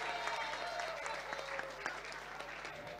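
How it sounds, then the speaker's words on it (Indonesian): Crowd applause at a participatory election oversight outreach session for first-time voters, a dense patter of clapping with a few louder individual claps, moderately loud. "Tepuk tangan buat kita semua ya."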